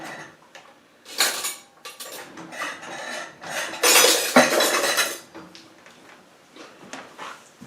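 A butter knife stirs Cajun seasoning with ground paprika in a container, giving irregular clinks and scraping rattles that come in bursts, the busiest stretch in the middle, with no talking.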